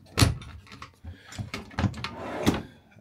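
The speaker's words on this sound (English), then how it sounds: "And your cutlery drawer." A cutlery drawer in a Bürstner Aviano I684 motorhome kitchen is pulled open, giving a near, sharp sliding knock followed by a few lighter clunks and rattles, with no talking.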